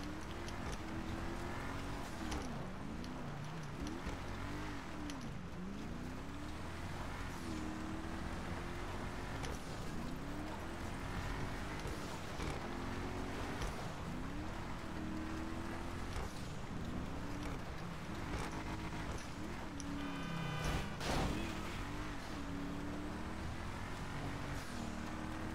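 A car drives through snow in GTA 5, its engine droning steadily and rising and falling as it revs and shifts, with continuous road and wind noise throughout.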